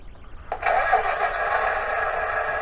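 A radio-controlled John Deere 9620RX tractor, a Bruder model converted to RC, has its motor started. A faint click comes first, then a steady, buzzy electronic engine sound begins and holds close and even, with no talking.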